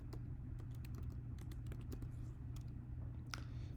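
Quiet keystrokes from a computer keyboard as JavaScript code is typed, irregular taps and short bursts clicking over a low steady hum, close by and with no talking.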